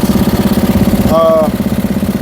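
A riding lawn mower tractor engine idles with a steady low, pulsing drone from close by, and a brief higher whine rises over it partway through.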